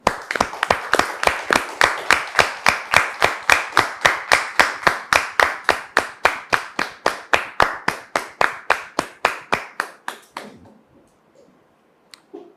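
A TV studio audience claps in unison for a guest, a loud, evenly spaced rhythmic beat of about thirty sharp claps that stops abruptly, leaving near silence.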